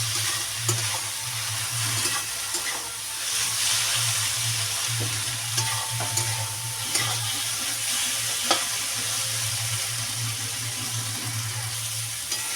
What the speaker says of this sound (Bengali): ভালো করে সোয়াবিনটা এবার আমি কষিয়ে নেবো মশলার সাথে